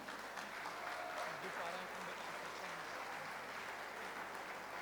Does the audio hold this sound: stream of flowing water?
no